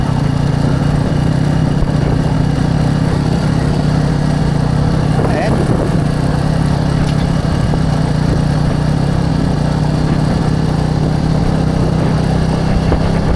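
A motorcycle engine runs steadily at a bike show, a loud, close, continuous drone with a constant low hum and no breaks.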